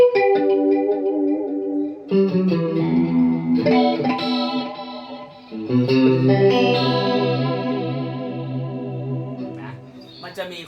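Sustained electric guitar chords with a shimmering, swirling chorus effect, played loud and close, with a few chord changes and no talking.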